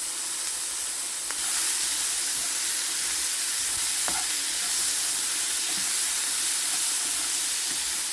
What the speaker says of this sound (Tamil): இப்போ பாருங்க கேரட் கொஞ்சம் பொரிஞ்சு கொண்டு வருது.